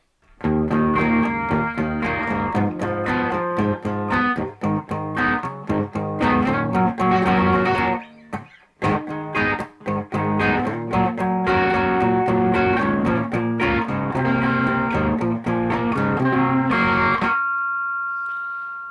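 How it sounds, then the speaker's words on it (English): Overdriven electric guitar through a Behringer TO800 Vintage Tube Overdrive pedal on the amp's clean channel plays chords and riffs with a warm, gritty distortion, loud and continuous, ending on a sustained ringing chord. "that's the clean channel with the TO800 vintage tube distortion. Let's do the lead channel."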